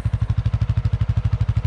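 A CF Moto 500 utility vehicle's engine chugs steadily while pulling a lawn roller across a pasture, an even rapid thumping pulse at close range with no voices.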